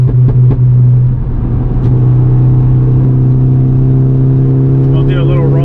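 A Volkswagen Golf GTI MK7 with an IS38 turbo and a flex-fuel setup accelerates from a roll with a loud, close, steady engine drone, and a voice speaks briefly over it.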